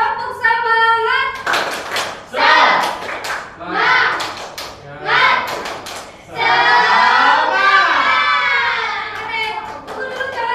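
Children in a classroom perform a spirit clapping chant, bursts of rhythmic hand claps alternating with loud group chanting and voices, the patterned claps and shouts trading off in quick succession.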